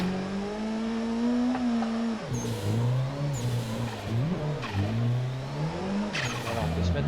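A drift car in Assetto Corsa revs hard and shifts with a sharp drop in engine pitch, then surges and wails through repeated rises with tire squeal, loud and continuous under someone speaking French.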